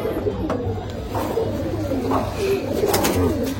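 A young male domestic pigeon coos in several soft, low, rolling phrases close by, with a little background noise.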